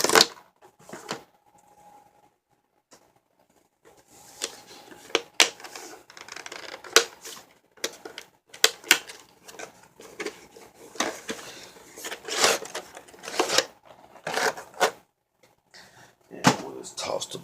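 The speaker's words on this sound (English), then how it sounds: "So let's go ahead and rip this box open." Cardboard box for a ZTE Tempo phone being ripped open by hand, heard as close, irregular tearing, scraping and rustling bursts of varying loudness over roughly thirteen seconds after a quiet start.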